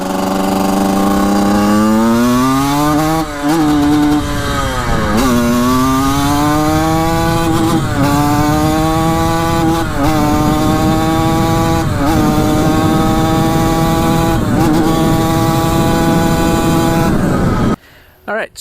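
A Suzuki RM125 two-stroke dirt bike engine runs loud and close, rasping and buzzing as revs climb through repeated shifts, pitch rising then settling in steady pulls before it cuts off near the end.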